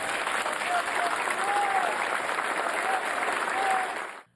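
Crowd applause fills a football stadium, Arena Grêmio, during a farewell ceremony for a defender: dense, loud clapping with a few whistles, then an abrupt cut to silence near the end.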